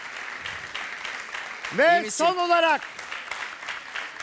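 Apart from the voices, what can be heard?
studio audience applause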